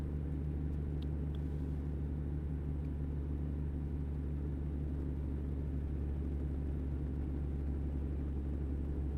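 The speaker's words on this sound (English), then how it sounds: "I hear like a helicopter." A helicopter-like droning rumble while driving a truck in American Truck Simulator near a tunnel, heavy, low and continuous throughout with no talking.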